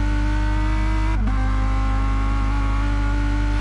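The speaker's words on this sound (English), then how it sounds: "Fantastic noise from the Lamborghini of Tombak there." Lamborghini race car engine at Laguna Seca circuit during an endurance race. It drones loud and steady, with a brief pitch dip and shift partway through, then a sustained high tone, with no talk over it.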